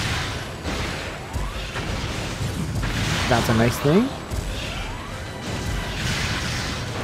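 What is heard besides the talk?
frozen wasps shattering in Metroid: Other M video game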